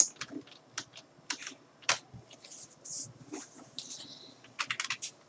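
Bursts of typing on a computer keyboard, irregular clusters of close, crisp key clicks with short pauses, while entering CSS code, with no talking.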